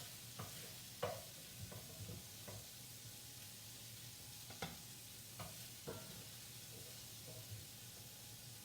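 A spoon scrapes and scoops through sizzling beef mixture in a greasy frying pan for enchiladas, with soft repeated clinks over a steady low fry hiss.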